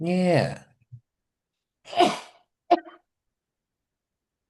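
One sharp, close sneeze bursts out after a short spoken word, followed by a brief quieter sound; otherwise the room is silent.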